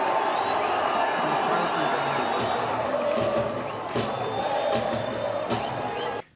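A football stadium crowd roars and cheers continuously after a goal in a Tupi match, loud and dense, with a commentator's voice over it before the sound cuts off abruptly.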